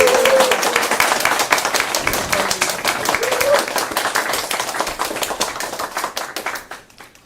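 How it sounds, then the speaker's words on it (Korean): An audience at a political party members' meeting gives a big round of applause, dense steady clapping that tapers off toward the end, with voices over it at moments. "큰 박수 부탁드립니다"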